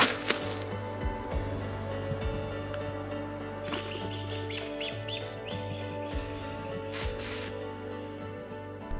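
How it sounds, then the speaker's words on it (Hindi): Wild birds call from a snowy Himalayan forest slope, scattered chirps and calls rising over a steady broadband background hum, with occasional sharp crunching sounds throughout. "नीचे की तरफ कुछ पक्षियों की कॉल सुनाई दे रही थी"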